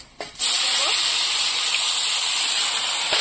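Chopped onions hit a small amount of hot oil with dried chillies, whole spices and cumin, breaking into a loud, steady close-up sizzle that holds without letup.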